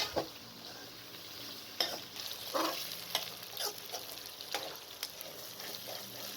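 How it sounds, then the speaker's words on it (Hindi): Potatoes and onions for aloo gobi fry in a pan with a soft continuous sizzle, punctuated by several distinct scraping strokes of a spoon stirring them, quiet and close, no voices. "आलू डालकर मज़ीद 3 से 4 मिनट तक भून लें"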